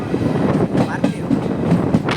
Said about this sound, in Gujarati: અત્યારે જો ટ્રેન શરૂ થઈ ગઈ છે